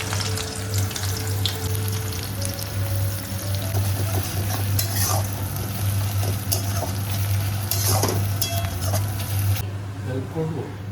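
Whole garam masala and onion fry in hot oil with a loud, continuous sizzle under a low hum, with scattered clinks of a utensil against the pan and some background voices.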